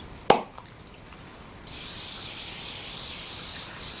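Spray adhesive hissing steadily from an aerosol can onto quilt batting fabric, starting after a brief click and holding as a bright, even, close spray.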